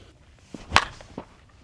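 A single sharp crack of a 2025 Miken Super Freak one-piece slowpitch bat striking a softball, quick and fairly faint, with a few soft knocks just before and after.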